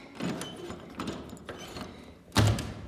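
A loose fixed door handle being worked in and out at a residential unit, giving a few soft rattling knocks and scrapes, close and moderate, with a sharper clunk near the end.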